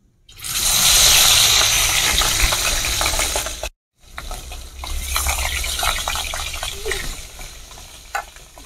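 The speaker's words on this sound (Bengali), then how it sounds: "তেল গরম হয়ে গেছে, মাছগুলো ভেজে নেব।" Katla fish pieces frying in hot oil in a wok, a loud continuous sizzle and crackle with stirring noises, a brief pause, then steadier bubbling sizzle with occasional spits and clicks.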